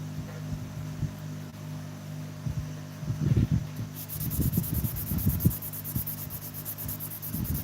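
A pounamu roimata stone is sanded through the grits, giving close, steady rubbing strokes in rhythmic bursts over a constant low hum.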